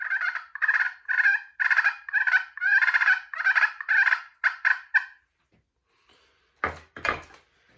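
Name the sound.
fighting purrs turkey call on crystal pot with hickory striker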